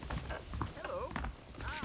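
Horse hooves clip-clop in Red Dead Redemption, a quick uneven patter of steps mixed with faint game ambience and a voice talking over it.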